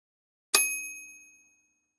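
A single bright bell ding rings out cleanly after silence, a sharp metallic strike that decays smoothly over about a second, used as a cue in an English conversation drill.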